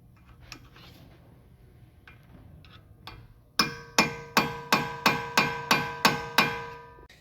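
Steel hammer striking a wedge-shaped punch on the staked dimple of a Toyota RAV4 EV axle nut, eight sharp ringing metallic blows in an even rhythm after some quiet clinking.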